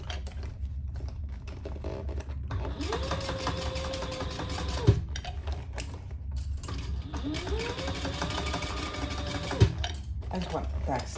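Sewing machine back-stitching over D-ring clips on a Fiona foldover crossbody bag, a steady mechanical whir running in two long bursts with brief pauses and small clicks between, quiet talk faintly present.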